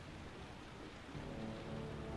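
Steady rain falling on a balcony in the video game Heavy Rain, a dense, even hiss that carries on without a break and swells slightly in the second half, with a faint low rumble underneath.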